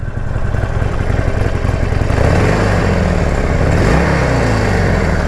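A Harley-Davidson Forty-Eight motorcycle engine runs steadily close by, a deep continuous loping rumble with a slight rise in revs partway through, no voices.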